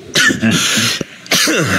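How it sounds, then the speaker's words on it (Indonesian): A person coughs close by, two harsh bursts separated by a short pause, with a brief throat sound between them. "lagi batuk"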